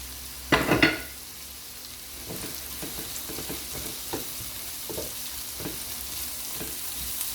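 Peppers fry in a pan with a steady soft sizzle. A sharp clatter comes near the start, then light scraping and stirring taps sound at intervals.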